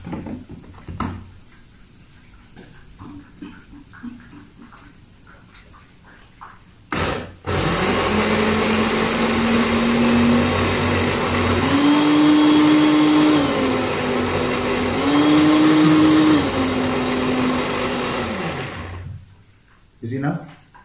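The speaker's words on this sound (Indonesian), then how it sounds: "Ni blender je pun." After some background chatter in a home kitchen, a blender starts up with a loud whirring roar. It runs for about twelve seconds, its pitch rising and falling twice as the load shifts, then cuts off.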